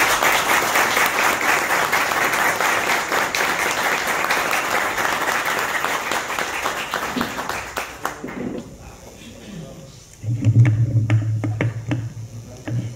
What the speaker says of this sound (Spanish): acompañar a la gobernadora con un fuerte aplauso nuevamente